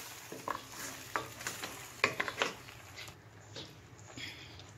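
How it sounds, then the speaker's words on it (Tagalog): Beef spare rib and pechay soup thickened with cornstarch, stirred in a pot with a run of quick ladle clinks and scrapes over a soft, faint simmer, easing off toward the end. "Haluin lang po natin."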